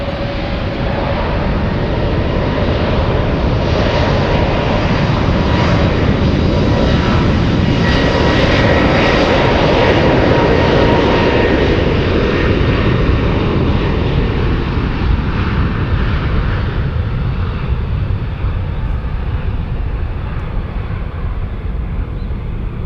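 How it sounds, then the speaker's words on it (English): Delta Airbus A321 jet airliner at San Francisco airport, a loud, steady engine roar that holds for over twenty seconds with a broad rushing texture, swelling midway then easing slightly as the jet passes. "Delta 785 flying to Atlanta ATL"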